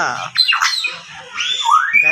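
A parrot at a small zoo gives loud, harsh squawks, several rising and falling screeches in quick succession, close and clear.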